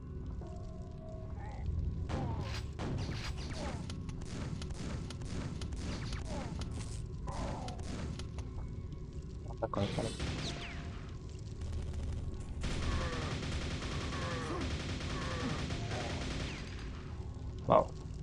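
Rapid gunfire and blasts from the shooter game Quake: Dimension of the Machine, a dense run of repeated sharp shots across the clip with a thicker, sustained burst of noise near the end.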